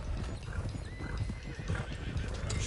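Horses in Red Dead Redemption 2 trot along with steady clip-clopping hooves, and a loose stallion's whinny rises over the hoofbeats.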